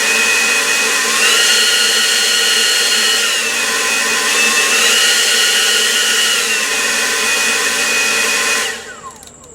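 A cordless leaf blower runs steadily at high speed, a loud whining, droning whoosh with strong tonal hum that holds for about nine seconds before the motor cuts off and spins down.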